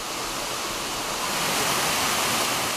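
Constant roaring rush of a tiered waterfall in eastern Indonesia, loud and close, a dense wash of falling water with no other sounds.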